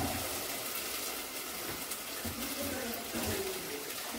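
Water is poured into a cooking pot while a dish with ground spice paste and kodampuli is being prepared, a steady, continuous splashing rush with a voice faintly present.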